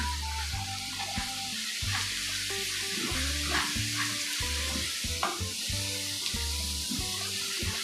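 Garlic sizzling in hot oil in a wok, a steady loud fry broken by repeated scraping stir strokes of a spatula, with no voices over it.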